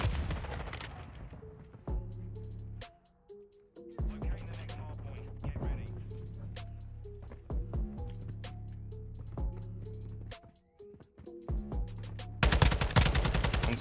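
Rapid automatic gunfire in Modern Warfare 2 with a TAQ-56 rifle, bursts of sharp shots repeating across the clip in close, loud volleys, with a denser final burst.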